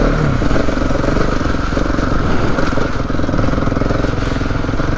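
Motorcycle riding over gravel, its engine droning steadily and loud throughout with clattering stones and road rumble underneath, no pauses in the sound.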